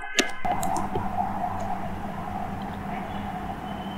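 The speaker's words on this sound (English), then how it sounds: "I'll click search, I'll click add block" Computer mouse clicks while adding an ad-blocking browser extension, a couple of sharp close clicks at the start followed by a steady low background hum, no talk.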